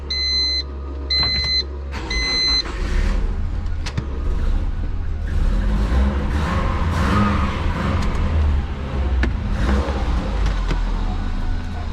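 A few electronic beeps, then a twin-turbo Subaru engine revs and accelerates loudly, its roar rising and holding with some rattling noise.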